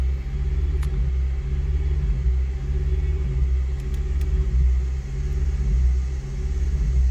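A car engine held at 2000 rpm, a steady low rumbling hum with an even pulsing throb running close and constant throughout.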